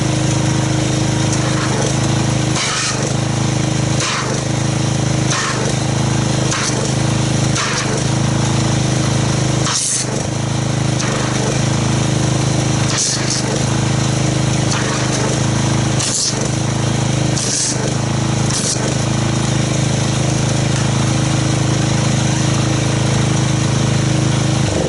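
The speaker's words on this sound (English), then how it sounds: "let me get the pressure washer fired up" Gas pressure washer engine running loud and steady at close range, a continuous droning hum with repeated short bursts as the spray trigger is pulled, used to foam Black Magic car wash soap.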